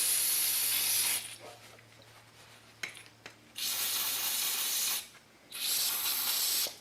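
Carburetor cleaner sprayed into a scrap chainsaw: three loud, close hissing bursts of aerosol, with quieter gaps and a few faint clicks and handling noises between them.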